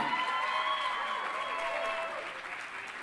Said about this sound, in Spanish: Aplauso para Tony Bumbal